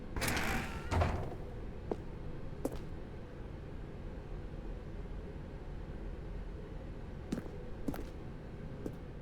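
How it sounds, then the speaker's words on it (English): Door in the video game The Stanley Parable sliding open with a creaking mechanical rumble near the start, followed by sparse clicks and knocks over a low, steady ambient drone. "Stanley walked through the red door."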